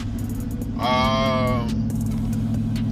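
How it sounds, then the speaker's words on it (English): A Chevrolet Tahoe being driven with no exhaust fitted gives a steady, loud, low engine drone throughout, with a brief higher whine or tone swelling in the middle and no talk. "Of course it's loud because I don't have the exhaust put on."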